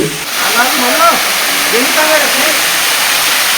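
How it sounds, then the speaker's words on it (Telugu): A waterfall fed by small rocky streams at Siddaramappa Kolanu near Srisailam pours fast, giving a loud, constant hissing rush, with a few faint voices briefly rising through it. "చిన్న చిన్న శిలయేరుల ప్రవాహాలు జలపాతంగా వేగంగా పడుతుంది"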